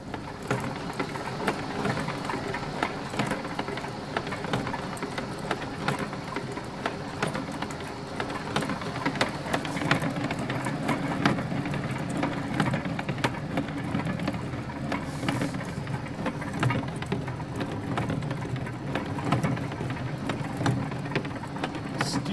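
Robinson floor tester running 900 pounds of steel wheels over epoxy-grouted flooring on 3/4 inch plywood, a continuous mechanical rumble with steady rattling clicks, fairly close.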